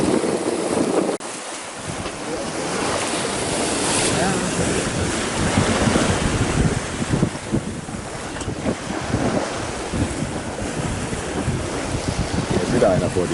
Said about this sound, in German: Guck mal die Welle.